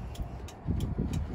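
A 3-pin flasher relay in a 1936 Chevy Coupe ticks quietly with the hazards on, giving about four evenly spaced clicks at a steady rhythm over a soft low hum.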